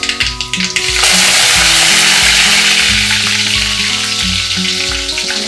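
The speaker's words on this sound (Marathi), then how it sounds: "आपलं तेल गरम झालेले तर आपण थोडीशी मोहरी घालूया मोहरीनंतर ना जिरा त्यानंतर कढीपत्ता" Mustard seeds, cumin and curry leaves crackle and sizzle in hot oil for a Maharashtrian brinjal-potato curry, a loud continuous frying hiss that swells after the first second and holds steady with some background tones.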